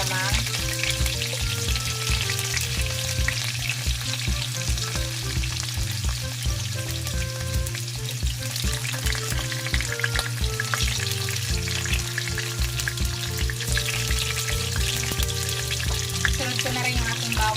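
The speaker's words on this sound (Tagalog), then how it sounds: "Lutuin na po natin yung alamang" Bagoong alamang shrimp paste frying with onion in hot oil, a loud, dense crackling sizzle that carries on steadily for the whole stretch, heard close with no talking.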